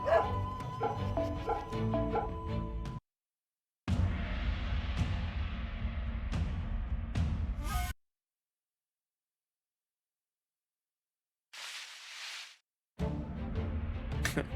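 Dog barks and yips inside the video game Fate/Grand Order, loud and close, arriving in bursts separated by a few seconds of silence, along with a short soft whimpering sound.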